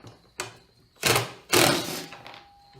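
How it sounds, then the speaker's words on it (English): A small impact driver backing screws out of a fishing seat base, giving three short bursts of rattling whirr, each louder and longer than the last, close by with no talk. "I've got my little impact driver here that I've got set up for this size bolt"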